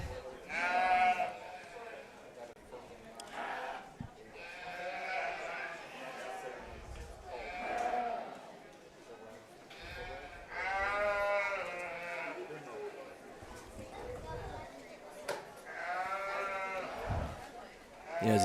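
Sheep, weighing around 130 to 136 pounds, bleat repeatedly in a county fair show ring, their calls rising and falling amid crowd noise while an announcer talks over them.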